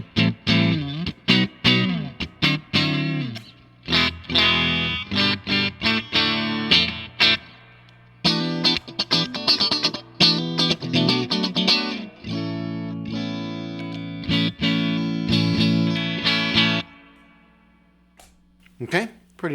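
Electric guitar with a clean amplified Stratocaster-style tone, played through various pickup combinations, strummed chords and single-note runs with brief pauses between phrases, close and fairly loud.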